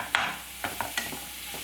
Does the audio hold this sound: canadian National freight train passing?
no